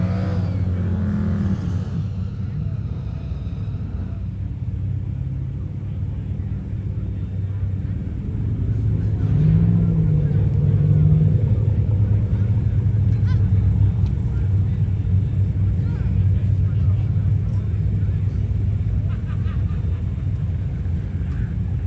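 A 1970 Dodge Dart Swinger and a 1962 Oldsmobile drag race at a Sick Summer event, a sustained low engine drone that grows louder partway through and holds steady.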